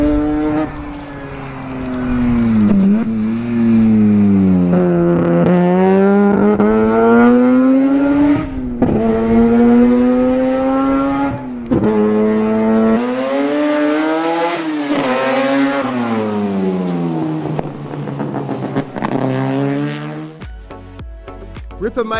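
A Mazda RX3 race car with a 13B peripheral port rotary engine revs hard and loud, climbing and falling in repeated sweeping pitches with a harsh, raspy tone, close up and unbroken for the whole stretch.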